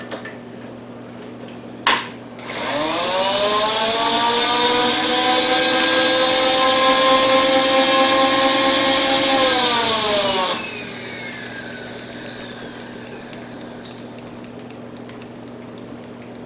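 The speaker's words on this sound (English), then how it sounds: "I'm going to drill a series of holes so that I don't have to mill out as much material" A power drill spins up and whines steadily for several seconds as it bores through metal, then winds down, followed by faint clinks and a high tone.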